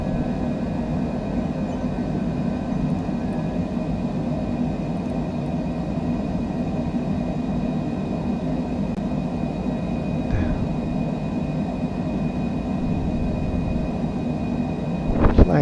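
Cessna Citation Longitude jet in a flight simulator, climbing out after takeoff: a steady, loud broadband engine roar holds level throughout, with a brief swell near the end and no talking over it.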